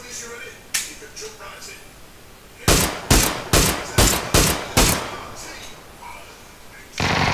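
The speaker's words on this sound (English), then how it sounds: "Shoots a dead body." Gunshots are fired at a dead body in a squad video game, six sharp, evenly spaced cracks in a rapid burst, each with a short decay. A few fainter shots come before the burst and another loud shot follows near the end.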